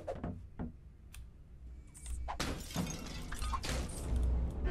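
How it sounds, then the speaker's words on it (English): Picture frames shatter in the horror game No Mercy, heard as sharp glass-breaking crashes, a few brief isolated snaps early on, then denser breaking bursts clustered together, fairly close and loud. "Shatter picture frames."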